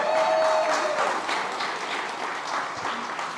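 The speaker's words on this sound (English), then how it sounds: "Please give him a round of applause." Audience applause at the All Things Food Summit at SXSW, welcoming a speaker back to the stage: broad, even clapping from a sizable crowd, strongest at the start and easing slightly as it continues.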